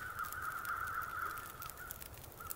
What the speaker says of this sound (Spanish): Por allí escucho cuervos.